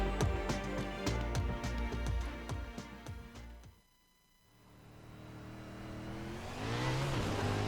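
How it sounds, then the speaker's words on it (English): A GSRC 410 winged sprint car in a sim racing game on the Knoxville Raceway dirt oval gives sharp, rapid engine bursts and revs, falls briefly quiet, then builds back to a rising, loud drone. "taking you for a spin on the dirt around Knoxville Raceway in the GSRC 410 wing sprint car"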